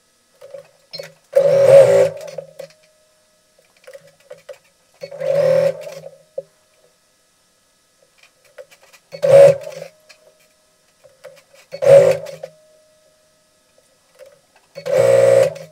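A sewing machine stitches a fabric gift box in five short bursts, each lasting about a second and separated by quiet pauses, heard close and with no talk.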